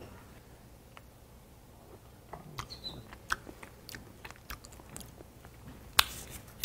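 Soft, quiet chewing and crunching of a Hallabong tangerine jam cupcake, irregular small bites and mouth clicks close up with no talking.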